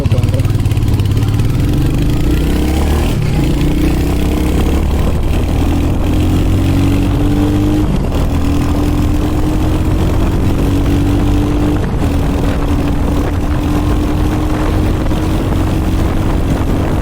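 A Royal Enfield Hunter 350 Metro motorcycle engine runs in a loud, steady, close drone, its pitch rising and settling through several shifts in engine speed with no voices.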